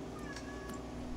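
A cat meows briefly, with a couple of short, faint high calls over a steady hum of background noise and no talking.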